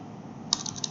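Keystrokes on a computer keyboard while entering a command on a CentOS system: a few quick, close clicks in the second half, after a stretch of low room hum.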